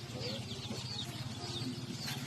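Chickens clucking steadily in a provincial farmyard in the Philippines, with soft overlapping clucks and chirps close by and a continuous low hum beneath them.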